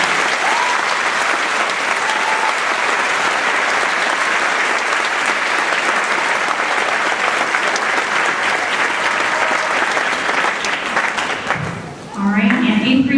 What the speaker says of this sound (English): You can give them a big round of applause.